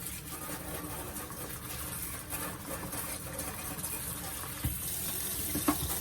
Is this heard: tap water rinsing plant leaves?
yes